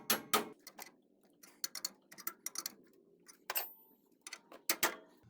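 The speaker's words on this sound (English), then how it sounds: "you give it a couple of raps with a hammer around the hole there, and you should hear it pop" Sharp metallic raps of a hammer on the knuckle around an upper ball joint on a Nissan Navara, ring out in irregular clusters, several quick strikes close together with short pauses, against a quiet background.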